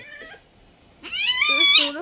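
A kitten or cat being bathed meows in a few drawn-out, rising cries, close and fairly loud, after a brief quieter call at the start.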